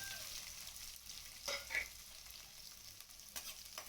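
Faint sizzling of shallots frying in oil in a pan, with a few soft stirring scrapes and crackles rising now and then.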